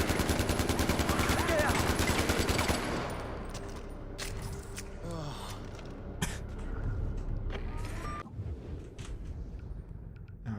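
Rapid AK rifle fire in Far Cry 4 rattles loudly in a sustained burst at the start, then gives way to quieter game effects and scattered sounds, with someone talking faintly at times.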